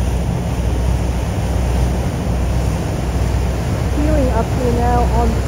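Steady, loud wind roars across the open top deck of the San Francisco–Vallejo ferry, broad and constant, and a voice speaks over it near the end.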